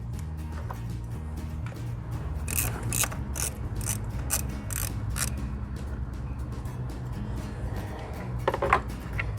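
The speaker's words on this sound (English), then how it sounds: "Go ahead and you got to unbolt it." A hand ratchet clicks rapidly and steadily, close by, while unbolting an engine ignition coil, with a low mechanical hum underneath and brief sharper metallic clicks in bursts.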